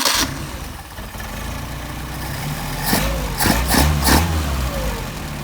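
A warm engine fitted with Solex carburetors is hot-started: a steady idle runs, then a cluster of sharp cranking and catching bursts leads into a louder running engine, close and without talk.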